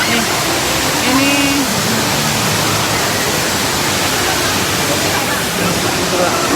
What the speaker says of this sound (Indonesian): bisa menciptakan air terjun di dalam gedung